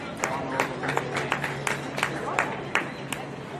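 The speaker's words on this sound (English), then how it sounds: "Welcomed off the pitch to a round of applause from many around the ground." Crowd around the ground at a women's NPL football match applauding a player leaving the pitch, a thin scattered round of claps from a modest crowd at a distance, with faint babble beneath.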